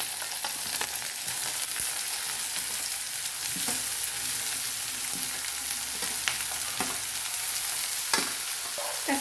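Onion, ginger and green chilli fry in a pan in a constant dense sizzle, close and steady, with occasional scrapes and light clicks from stirring throughout.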